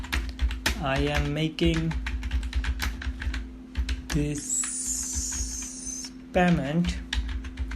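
Keys clicking on a computer keyboard as a payment note is typed for a crypto transfer, light rapid taps running under someone talking, with a brief high electronic tone partway through.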